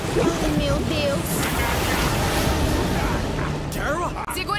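Turbulent water churning and surging in a film scene, a loud continuous roar of rushing waves with people shouting and talking over it.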